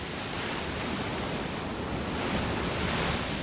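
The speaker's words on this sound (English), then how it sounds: "The ferocious power of the wind is transformed into enormous wave energy, rolling out hundreds of miles along the ocean's surface" Enormous storm-driven ocean waves crash under howling wind, a steady, loud roar of surf and gusts with no voices.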